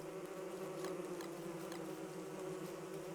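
Steady droning buzz of bees in the video game Don't Starve, a continuous swarm hum with faint wingbeat flutters over it, even and sustained throughout with no voices.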